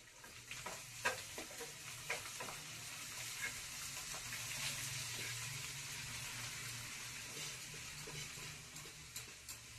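Fenugreek (methi) leaves stirred into cooked masala in a home kitchen pan, giving a steady close sizzle with scraping and stirring clatters throughout, no talking.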